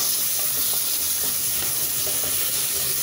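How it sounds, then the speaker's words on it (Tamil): Mutton being sautéed in a pan, giving a loud, continuous frying hiss and sizzle with faint stirring scrapes underneath, close and unbroken for a few seconds. "கொஞ்சம் மட்டனை கொஞ்சம் நேரம் வதக்கிக்கலாம்"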